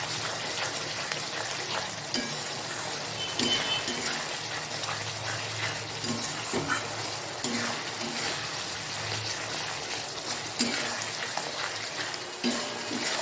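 Spice paste for a Bengali katla fish head curry sizzles in oil, a continuous moderate frying crackle with irregular stirring scrapes and pops, and no voice.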